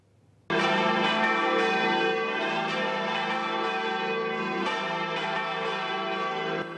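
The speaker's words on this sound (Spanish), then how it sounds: "momento en que sonaron todas las campanas de la torre del templo catedralicio" All the bells in the cathedral tower of the basilica in Santander ring together, starting suddenly after a brief quiet and holding a loud, dense, sustained peal to the end.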